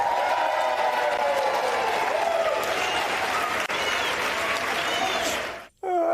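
House Democrats in the chamber erupt in sustained applause and cheering after the speaker vote tally, a dense roar of clapping and shouting that holds steady and fades out abruptly near the end.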